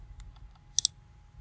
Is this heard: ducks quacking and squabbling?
no